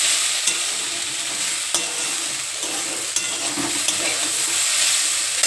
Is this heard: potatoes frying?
yes